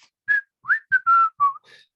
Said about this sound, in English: I can't whistle today for some reason.